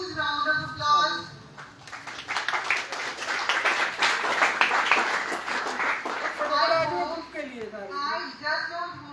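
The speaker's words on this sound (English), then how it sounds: "Give a huge round of applause." Audience clapping at a student talk session, a broad wash of applause under a steady stream of speech, with voices talking over the clapping throughout.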